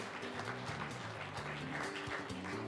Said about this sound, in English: A huge round of applause for Schneider Electric.